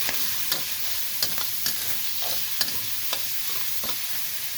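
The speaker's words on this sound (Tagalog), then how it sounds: "So, gigisa po muna natin sa ating mga sangkap." Minced pork and shrimp sauté in a pan for spring roll filling, giving a constant bright hiss punctuated by regular light taps of a utensil against the pan.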